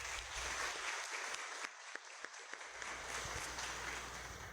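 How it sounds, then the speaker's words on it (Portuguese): Church congregation at a Holy Family Mass in a chapel applauds the community, a steady wash of many hands clapping that stays loud throughout, with a brief dip in the middle and no voices on top. "eu peço uma salva de palmas"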